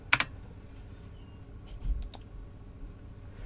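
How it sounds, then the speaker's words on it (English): Typing on a computer keyboard, heard as a few quiet, close key clicks in a short burst, one sharp tap near the start and a small cluster around the two-second mark, against a faint room hum. "This time we'll type in Alice again."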